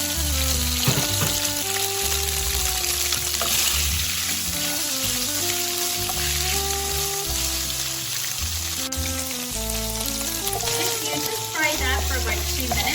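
Tofu frying in a pan while being stirred, a steady loud sizzle with occasional stirring noises beneath background music.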